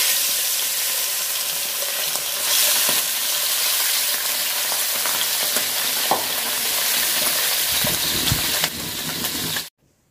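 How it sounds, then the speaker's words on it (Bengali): Turmeric-and-salt-coated fresh fish fry in hot oil with a dense, steady, crackling sizzle that stays loud and close for about ten seconds, then stops abruptly, with no speech. "তেল গরম বসা দিছি, আর মাছগুলা হলুদ আর লবণ দিয়ে মাখায় নিছি। এখন মাছ ভাজা নিব।"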